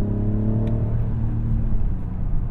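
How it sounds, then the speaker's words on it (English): A 2024 Mazda CX-90's engine hums and rises steadily as it accelerates, a continuous low rumble heard from inside, with engine noise piped into the cabin. "I do believe it's pumped in engine noise, because it sounds pretty great."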